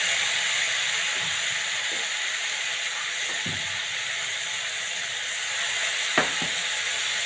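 Vegetables and spices frying with bay leaf and cumin for a vegetable khichuri make a steady loud sizzle and hiss, with a few faint stirring knocks and one sharper clink near the end.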